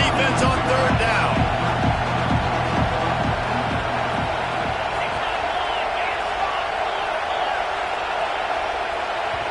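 A football stadium crowd gets loud on third down, with rhythmic thumping stomps for several seconds that give way to a sustained, roaring wash of noise. A commentator talks over it.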